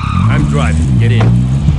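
A car pulls away hard with squealing tires, loud and close under a strained engine whine, while a voice speaks over it.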